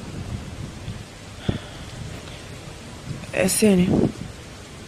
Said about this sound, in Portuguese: Tá chovendo muito lá fora.